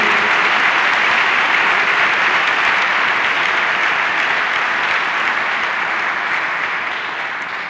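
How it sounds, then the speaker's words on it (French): Sustained, loud audience applause at the closing ceremony of a festival, a dense steady roar of many hands clapping without pause that tapers slightly toward the end. "Je voudrais vous prier de les saluer par des applaudissements nourris et répétés"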